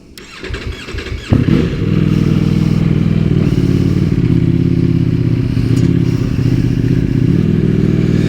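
An Italian superbike cranks and fires up close by, then settles into a loud, steady warm-up idle with a deep, even rumble and no talking.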